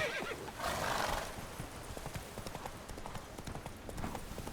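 Roach, a horse in The Witcher 3: Wild Hunt, snorts and whinnies briefly, then hooves clip-clop in a quick steady rhythm at moderate distance, fairly faint, with quiet talk underneath.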